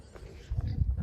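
Pigs grunting on a farm where a big chunky boar and a female are kept, low rough grunts building and growing louder toward the end of a short moment, fairly close.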